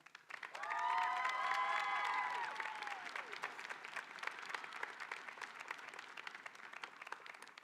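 Graduation ceremony audience breaking into applause that swells quickly to a steady roar of clapping with a few cheers, then thins to scattered claps; a bright whistle-like tone rings over the first seconds.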